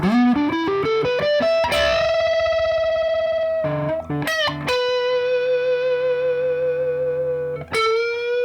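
Electric guitar on the rhythm pickup through a Boss OD-3 overdrive pedal set to heavy distortion, playing a quick rising run of notes and then long sustained distorted chords with sharp attacks, loud and alone.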